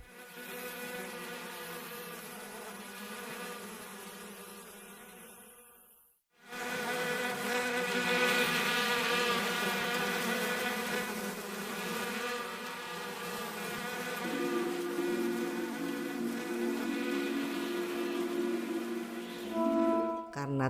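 Bees buzz steadily and loudly in a droning hum, cutting out briefly and then resuming, with no voices over the sustained buzz.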